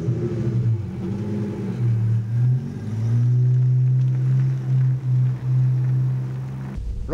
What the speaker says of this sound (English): Right now we're trundling along the old-fashioned way, pumping out petrol exhaust in a built-up area.